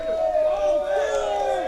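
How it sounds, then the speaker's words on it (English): Buffalo fans chanting in the stands at a wheelchair football game, a steady crowd roar with rising and falling voiced chant tones carrying throughout. "You hear some Buffalo crowd chants going on"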